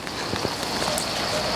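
Steady rain pours down at an outdoor eventing competition during a thunderstorm, a dense, even hiss of drops on wet surfaces filling the whole moment with no talk.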